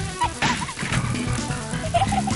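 Buzzing of bees in the arcade fighting game Outfoxies, a thin droning hum lasting a couple of seconds over a busy background of game music and effects.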